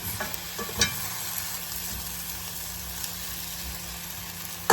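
Vegetables sizzle steadily in a skillet, close and even, while a utensil stirs them with a few light scrapes and a sharp knock at the end.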